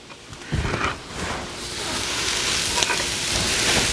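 Mushrooms fry in a hot pan, a loud close sizzle that crackles and builds steadily, with brief stirring clatters mixed in.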